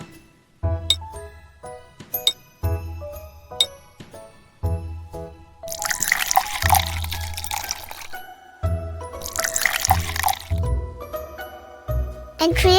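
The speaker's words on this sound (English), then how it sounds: "To create the blue color, I soak dried butterfly pea flowers in hot water." Hot water is poured over dried butterfly pea flowers in a glass, two spells of splashing pouring near and clear, separated and surrounded by light clinks and taps of glassware and utensils.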